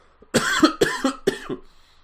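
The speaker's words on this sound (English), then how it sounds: "I'm going to cough any second now." Three harsh coughs in quick succession, close and loud, followed by a short pause and silence.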